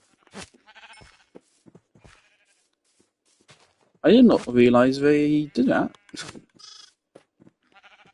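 A sheep in the Minecraft video game gives a loud, wavering bleat of about two seconds in the middle, with scattered quiet game sounds and someone speaking around it.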